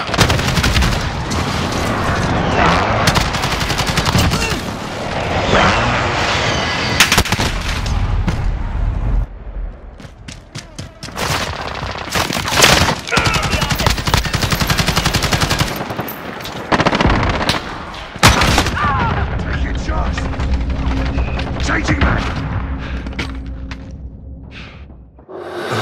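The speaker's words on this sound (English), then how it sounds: "Enemy precision airstrike! Take cover!" A precision airstrike and heavy automatic gunfire thunder through a team deathmatch on the Shoot House map in Call of Duty Modern Warfare, with loud sustained bursts, explosions and dense rattling fire nearly throughout.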